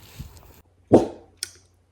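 A dog gives one sharp bark followed by a shorter yip, close by, with quiet pauses around them.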